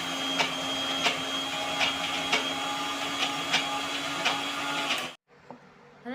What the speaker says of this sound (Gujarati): હવે આને આપણે મિક્સરમાં પીસી લેશું